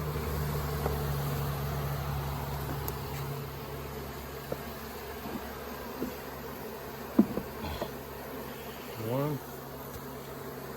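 Honeybees from a nuc package buzz steadily during installation into a hive, a low continuous hum with a few louder close passes, while a voice briefly speaks.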